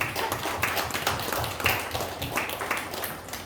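A church congregation at a Sunday service breaks into brisk, scattered applause, dense hand claps filling the room at a moderate, even level.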